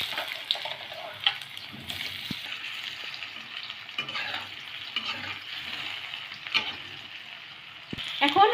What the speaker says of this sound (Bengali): তো তেলটা গরম হয়ে গেছে। সেদ্ধ করে রাখা আলুর টুকরোগুলো আমরা এখন দিয়ে দিলাম।